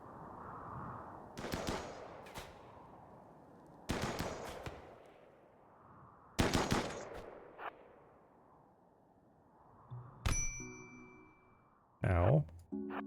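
Assault rifle fire in RimWorld comes in three or four short, separate bursts spread across the clip, each a sharp crack that decays quickly, with quiet ambience between and a few game effects near the end.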